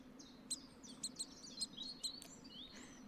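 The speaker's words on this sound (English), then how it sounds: "The cute little noise in the background of that one bird that we played" Bird call from the Wingspan board game, a run of quick high chirps and tweets repeated in short bursts over a low steady hum, faint and in the background.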